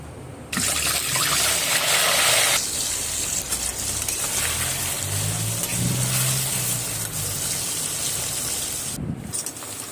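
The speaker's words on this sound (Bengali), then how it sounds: "যে মাংসটা সিদ্ধ করে নিয়েছিলাম ওই মাংসটাও ভালো করে ভেজে নেব" Pre-boiled meat fries in hot oil for an elephant-foot yam curry, giving a loud, close, continuous sizzle that flares harder in the opening seconds and then crackles steadily on.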